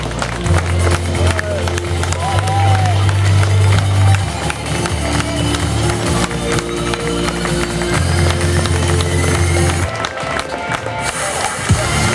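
Crowd noise at an outdoor cow show at a regional fair in Thonon, a dense wash of clapping and general bustle, fairly loud and steady throughout, with voices mixed in.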